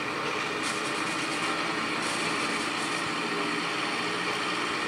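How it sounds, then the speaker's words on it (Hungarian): A train passes in the video game GTA 5, giving a steady, dense rumble and roar that holds at an even level throughout, with no voices. "És követhetem így a vonatot."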